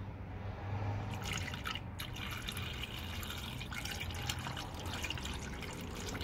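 Coolant is poured through a funnel into a Subaru EJ255/EJ257/FA20 engine, producing a steady liquid gurgle and splash with uneven bursts of dripping and spattering at close range.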